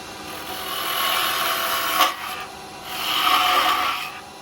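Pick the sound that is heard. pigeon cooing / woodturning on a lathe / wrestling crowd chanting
woodturning on a lathe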